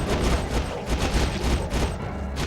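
Dense, rapid gunfire from the video game Soldier of Fortune on PS2, bursts of shots crackling over each other continuously, with no voices.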